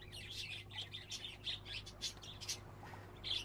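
Small birds chirp and tweet in the video game Exotica, a run of short, bright calls repeating steadily over a low constant background hum.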